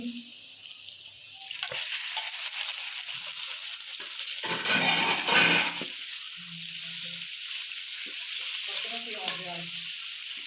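Chicken sizzles and crackles in a hot pan with browned garlic-ginger paste, with a louder burst of frying midway and occasional clinks of a utensil stirring.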